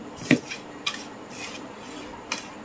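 A fishing bait made with biscuit is mixed in a bowl, heard as a few sparse scraping knocks of a utensil against the bowl at close range. Quiet rubbing fills the gaps between them.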